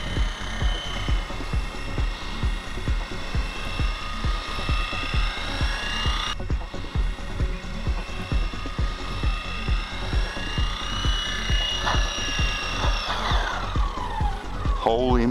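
A single-rotor-blade E-Sky 900 RC helicopter flies nearby, its blade chopping in a fast, steady rhythmic beat over a whining motor, with the pitch shifting slightly toward the end; the sound is continuous and no one talks.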